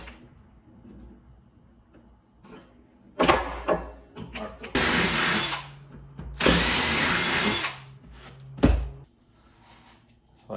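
A power drill boring holes through a board in a workshop, several loud whining bursts of a few seconds each separated by pauses, with handling clicks and knocks between them.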